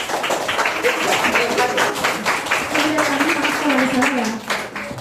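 Group of people clapping hands for a team of students in a classroom training session, loose and fairly close clapping running under a voice talking throughout.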